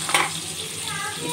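Thick yogurt kadhi bubbles and sizzles steadily in a pot as a spoon stirs it, a close, continuous hiss with a brief scrape at the start and no talking.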